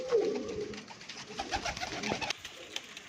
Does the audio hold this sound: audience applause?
no